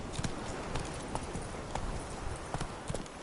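The video game horse Roach gallops in a quick, steady rhythm of clip-clopping hoofbeats, close and clear over a soft background.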